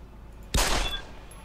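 A single sharp gunshot blast in the video game Deus Ex: Human Revolution, loud and sudden with a brief booming tail, standing out from a quiet ambient background.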